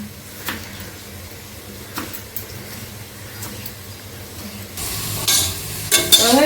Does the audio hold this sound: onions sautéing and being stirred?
yes